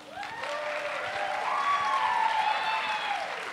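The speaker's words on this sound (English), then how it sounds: "So please, round of applause for Pavel." A crowd applauds steadily for a few seconds, dense clapping holding an even level, with a brief swelling musical tone riding over the applause.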